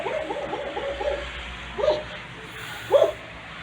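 A dog barks in a quick run of yips, then two louder single barks after pauses, close by and over a steady background hum.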